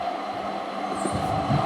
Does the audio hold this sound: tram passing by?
yes